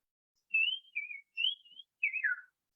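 A whistled human imitation of a brown-cheeked fulvetta call: four short, sweet, sliding phrases, close and clear, with silence between them and nothing else audible.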